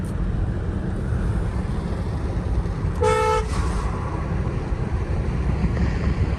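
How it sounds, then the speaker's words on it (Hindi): A single short honk from the horn of a 2026 Kia Seltos top model, sounding once over steady wind noise outdoors, bright and fairly close. "इसका हॉर्न मैं सुना देता हूँ आपको।"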